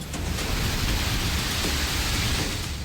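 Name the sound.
heavy rain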